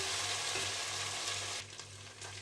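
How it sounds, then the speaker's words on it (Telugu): Ginger garlic paste fries in a pan with a steady, close hiss that holds loud for most of the stretch, then drops sharply quieter near the end as the sizzle eases. "అల్లం వెల్లుల్లి పేస్ట్ పచ్చి వాసన పోయే వరకు బాగా ఫ్రై చేసుకోవాలి"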